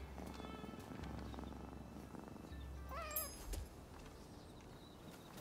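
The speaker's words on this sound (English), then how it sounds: "see, there is a cat somewhere around." Cat in the video game Rise of the Ronin giving a single short, rising and falling meow midway, fairly clear over a low game ambience with faint footsteps.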